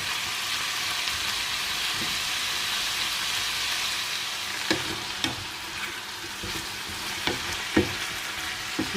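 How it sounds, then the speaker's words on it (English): Mixed pepper frying in a pan, a steady broad sizzle running throughout, punctuated by several sharp knocks and scrapes of stirring in the second half, close and without talk. "So we're going to allow this to fry for about 10 minutes."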